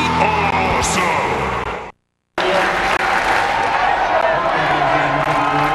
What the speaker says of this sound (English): Huge partisan crowd here in Nashville, one of the biggest gatherings we've seen here at the draft, and they erupt now